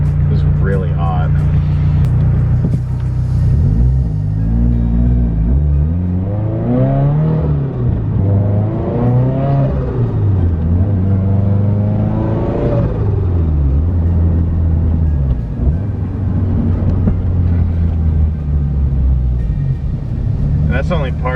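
Car engine revved at partial throttle to about four thousand rpm, loud and close, with repeated rising and falling revs that rumble steadily throughout.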